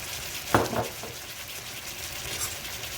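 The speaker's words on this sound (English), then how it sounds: "we're going to mix this part up, get those herbs soaking in the juices" Vegetable tomato spaghetti sauce with herbs being stirred in a pot, a low bubbling simmer with one sharp clink of the spoon against the pot early on.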